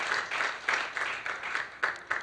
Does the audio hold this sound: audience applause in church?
yes